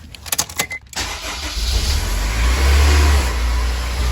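A wrecked 2002 Honda S2000 cranks briefly, fires up, then its engine revs and settles into a steady, loud, close idle with no talking.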